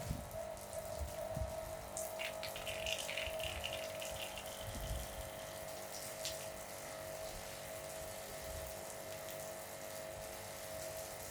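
An Aimex car pressure washer runs and sprays water with a steady, fairly quiet hiss over a low pump hum, with a few splashy bursts along the way.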